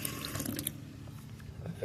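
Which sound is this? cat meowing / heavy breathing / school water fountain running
school water fountain running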